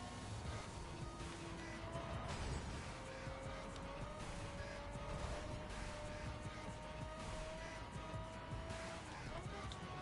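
Lamborghini driving in The Crew video game, engine drone with shifting tonal whine held steady throughout, loud and continuous under music and voices talking over it.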